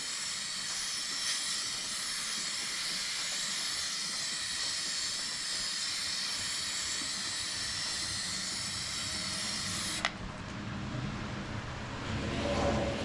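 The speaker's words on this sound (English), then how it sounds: "let's get a coat of paint down" Spray paint hisses steadily as a coat goes onto an MTD White Outdoor GT2550 garden tractor, a close continuous spray lasting about ten seconds before cutting off sharply, leaving a low rumbling background.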